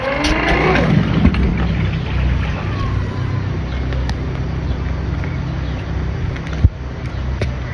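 A Honda gasoline outboard motor runs on a dinghy, a steady droning engine with water noise, close and loud, while people talk over it.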